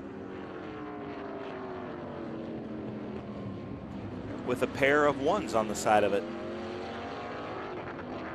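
Vintage race cars in an SVRA Group 10 race at Sebring sweep past in a close battle, a swelling engine roar that peaks briefly mid-clip before fading, while someone talks throughout.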